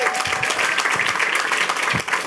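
Audience applause at an outdoor groundbreaking ceremony for a women's center, steady clapping from a crowd filling the moment without speech over it.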